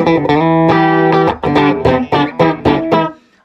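Electric guitar played through a Fender Pro Junior tube amp with its tone control rolled off, a sustained chord followed by a quick run of chopped, slightly gritty strummed chords, loud and close before fading out.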